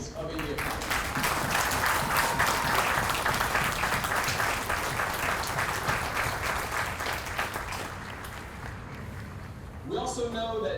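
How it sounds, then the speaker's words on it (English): A large crowd at a Marine Corps recruit graduation for India Company gives the families a long, loud round of applause, dense clapping that slowly thins near the end before a voice speaks over it. "please join me in a round of applause for the families of India Company"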